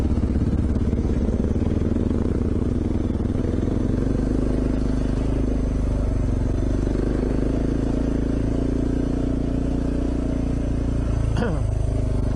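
A dual sport motorcycle rumbles steadily while riding trails at One Tree Hill near Bendigo, constant engine drone mixed with heavy wind buffeting and occasional clatter, with a rider's voice talking over it.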